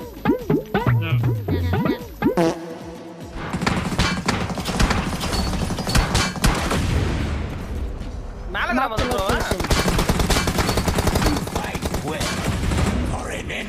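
A voice speaks briefly, then dense rapid gunfire erupts in the video game BGMI, sustained automatic bursts rattling loudly and nearly continuously, with a short pause midway.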